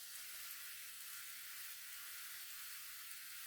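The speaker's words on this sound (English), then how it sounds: "I'm going to lightly saute off the red onions." Red onions sauté gently in a hot pan, giving a steady, even sizzle with a soft frying hiss that holds unchanged throughout, close by and with no talking.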